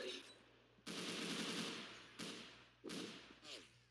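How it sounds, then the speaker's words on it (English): Bursts from an M1-1909 machine gun in a video game: a long rapid volley, then two shorter bursts and a brief final rattle. The fire is loud and near, with short gaps between bursts and no talk. "M1-1909 machine gun?"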